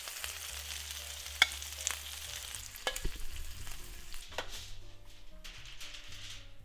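IKEA-style Swedish meatballs crisping in a frying pan give off a steady sizzle with light stirring and scraping, alone and moderately quiet.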